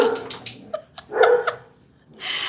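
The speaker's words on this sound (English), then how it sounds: "What are we barking at?" Scattered dog barks and yips in a home, a few short bursts separated by gaps of quiet, moderately close and not very loud.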